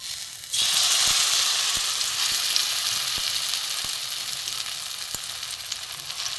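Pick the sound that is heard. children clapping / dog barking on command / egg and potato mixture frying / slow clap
egg and potato mixture frying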